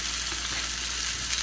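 Tofu hamburg steaks fry in a pan, giving a steady, dense sizzle that holds evenly and close throughout, with no voices.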